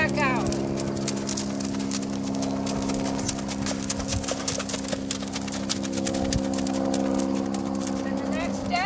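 A horse's hooves clip-clop steadily through a maze, a close, fast, even run of hoofbeats over a constant background hum, with a voice present.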